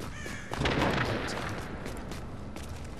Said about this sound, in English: Sounds like a lot of gunshots.